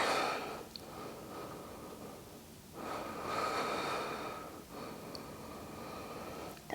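Slow, audible breaths during a yoga practice, a few long inhales and exhales through the nose, close and soft, with no talking.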